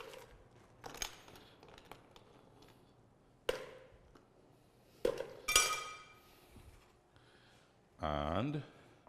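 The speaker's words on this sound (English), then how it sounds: "I want to ice my glass now." Ice cubes are dropped into a fancy martini glass for a grapefruit cocktail, giving several sharp, separate glassy clinks spread over a few seconds, with a brief voiced sound near the end.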